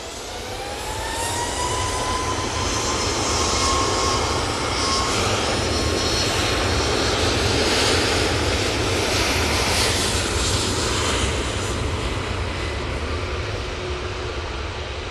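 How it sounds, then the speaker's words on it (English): Engines of a Ryanair Boeing 737 MAX 8 spool up for takeoff at Manchester Airport, a whine rising into a loud, sustained, steady roar that holds for the whole stretch. "Ryanair now on the spool up."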